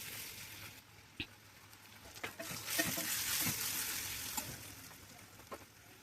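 Turmeric, chili, cumin-coriander powder and salt being stir-fried in a pan for a Maharashtrian dish, a steady close sizzle with occasional spoon scrapes and taps, swelling in the middle.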